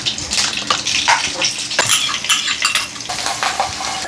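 Curry leaves and chili sauté in a pan for Surti gathiya nu saak, a hissing sizzle broken by the clink and scrape of a spoon stirring against the metal, close and fairly loud.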